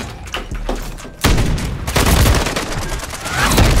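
Gunfire in a Call of Duty Search and Destroy match, a sharp crack followed by a burst of loud, dense shots and booms that carry on to the end.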